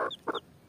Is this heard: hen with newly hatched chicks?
yes